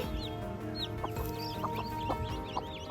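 A hen clucks in low, steady bursts while her newly hatched chicks peep in high, rapid chirps all around, in a quiet village farm setting with no talking.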